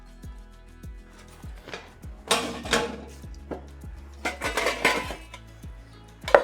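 Metal cookware clinks and clatters as a small pan, bowls and a cooking pot are handled and stacked, a steady run of close knocks and rattles with louder bursts of clanking, no talk.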